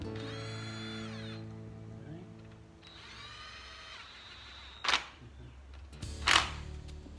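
A power drill runs screws in during assembly, with two sustained whirring runs of the motor followed by a pair of sharp clacks, close and moderately loud.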